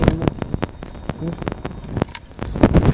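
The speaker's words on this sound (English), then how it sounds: "It's a bit windy." Wind gusts buffet the microphone on the rooftop of an abandoned factory, a rough uneven rumble with sharp thumps and crackles, under bits of people talking nearby.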